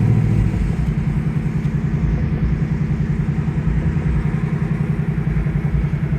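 A 2024 Ford Mustang GT Premium V8 starts with a loud flare, then settles into a steady, rumbling idle with an even, throbbing pulse, close and unaccompanied by talk.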